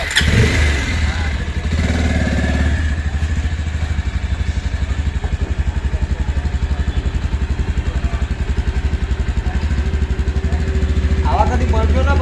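A motorcycle in a repair garage catches and settles into a steady, close, loud idle with a rapid even putter, after a rough start, while voices are heard in the background.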